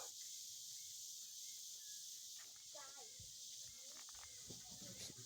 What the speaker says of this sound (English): Cicadas are out here.